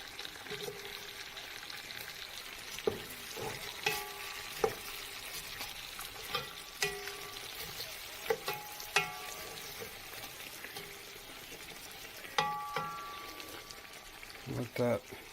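Chopped onions cook in a pot for a beef top round roast dinner, giving a steady low sizzle with frequent sharp clinks and scrapes of stirring, close by. Background speech is faintly present.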